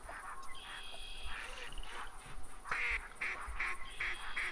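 Ducks quacking in theHunter 2017 hunting game, repeated nasal calls of several birds over a steady insect-like ambient bed, moderately near and with no talk.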